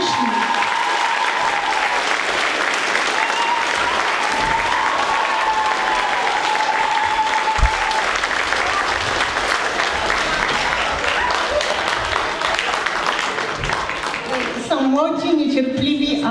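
Loud sustained applause from an audience honoring young people at a municipal council session, dense clapping throughout with brief tonal noise, ending in a short burst of voices.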